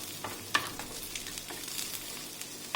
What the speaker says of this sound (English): if you feel the onions are burning, turn it down a bit and keep stirring them